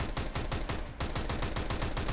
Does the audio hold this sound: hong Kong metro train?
no